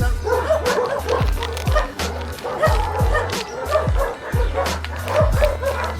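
A rescued dog with epilepsy barks repeatedly in short bursts, mixed with high whimpers and yips, close by, while people talk in the background.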